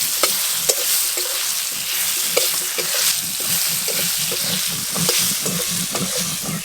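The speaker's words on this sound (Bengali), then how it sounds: "আমগুলো একটু ভাজা ভাজা করে নিয়েছি" Raw mango pieces fry in a pan with turmeric, dried red chilli and five-spice seeds, giving a steady close sizzle broken by repeated scraping stirs. No one speaks.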